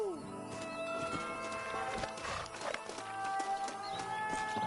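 Horses in a Red Dead Redemption Western game scene: hooves clopping and slowing on the ground with a whinny mixed in, voices calling over them and background music.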